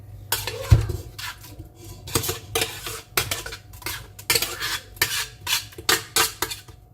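Utensils clatter and scrape rhythmically against a pan while onions and garlic cook in hot oil for a Tunisian tagine, a series of close, bright scraping strokes and clinks repeating every half second or so.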